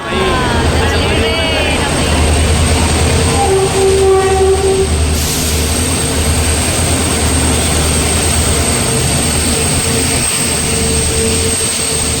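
A heavy express train rumbles into a station close by with a brief horn blast, its loud steady roar continuing throughout, with voices faintly mixed in.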